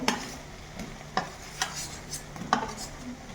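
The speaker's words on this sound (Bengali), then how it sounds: "তো এই আলুটা দিয়ে আবারও একটু ভালো করে কষিয়ে নেব" Fried potatoes being stirred into a spiced masala in a pan, with soft sizzling beneath sharp intermittent scrapes and knocks of a spoon against the pan, about five strokes, no talking.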